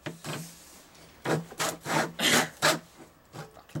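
Hand saw cutting through a book, a series of rough rasping strokes in an irregular rhythm, close and fairly loud, with no talk.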